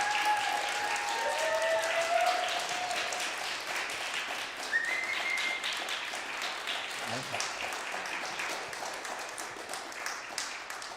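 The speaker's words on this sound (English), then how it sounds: "Please give them another round of applause." An audience at a dance event applauds in a sustained, even roar of clapping, with a few sharp whistles rising above it early on and no speech.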